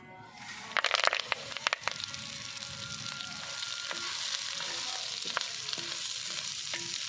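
Drumstick (moringa) leaves fry in a pan with a steady, dense sizzle, sharp crackles and stirring clatters in the first two seconds, then a continuous hiss with occasional spoon taps.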